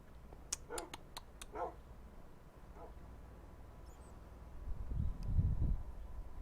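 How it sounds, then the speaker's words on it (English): Puppies in the game Minecraft bark in a quick cluster of sharp, high yips near the start, followed by a couple of fainter barks and then a low muffled rumble, with no talking. "I hear puppies"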